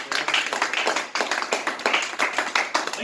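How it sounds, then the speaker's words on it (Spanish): Congregation clapping for the Lord during a Spanish-language church service, a close, loud burst of rhythmic group claps that pulses in steady waves throughout. "Denle un aplauso al Señor."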